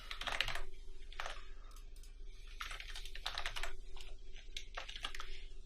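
Computer keyboard typing in bursts as account details and a password are entered on an online seller sign-up form, with short pauses between runs of keystrokes, close and moderately loud, no talking.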